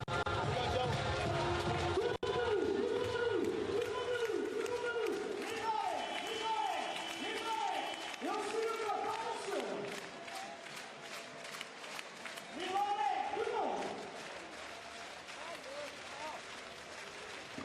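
A basketball arena crowd during a Champions League game roars in repeated rising chants and bursts of cheering and clapping, a broad hubbub with rhythmic swells and some voices mixed in.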